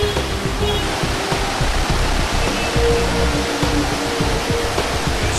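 Water at the Sahastradhara sulphur springs pours over limestone rocks in a loud, unbroken rushing roar, close and steady like a small waterfall.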